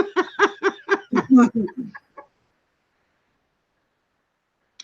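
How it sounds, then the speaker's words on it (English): A rubber chicken toy lets out a run of squawking, clucking squeaks, about eight loud pulses in quick succession that trail off, followed by near silence and a faint click at the end. "Can't find a rubber duck on Amazon. Only a rubber chicken."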